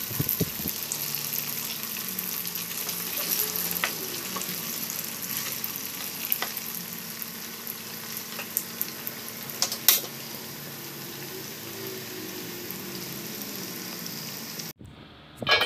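Cireng, a fried tapioca snack, sizzles steadily in hot oil with a dense, continuous crackle and occasional sharper pops, close and fairly loud, before cutting off abruptly near the end.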